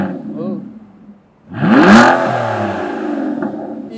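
A used Aston Martin Rapide S with a Touchtronic 3 gearbox, sitting still, is blipped once: a close, sharp rising rev that settles into a steady idle, with brief voices near the start.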